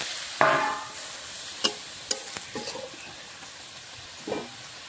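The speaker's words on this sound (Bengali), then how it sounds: "হালকা সবজিটা সিদ্ধ হওয়ার জন্য জল দিয়ে দেবো।" Vegetables with beans, peas and tomato cooking in a pan: a sharp hiss bursts up as water is poured in, followed by spatula clanks and scraping, then a fainter sizzle.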